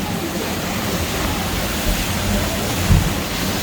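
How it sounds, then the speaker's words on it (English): A water wheel turns at Bourne Mill, a historic mill, with water rushing in a dense, steady roar and a few soft low thuds beneath it. "This is a water wheel."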